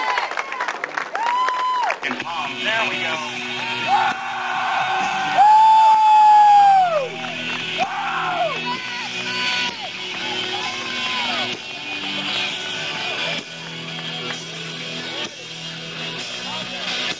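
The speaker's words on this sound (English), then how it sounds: "So keep up applause going while the music is getting ready." An audience at a boxing-style bout with a police department fighter cheers, whoops and applauds, with shouts and rising calls over steady clapping and a brief spoken line.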